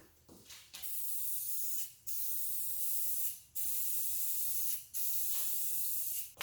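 A spray can or gun coating Corvette fuel rail covers in repeated steady hissing passes of about a second each, separated by short gaps, close and fairly loud with no talking.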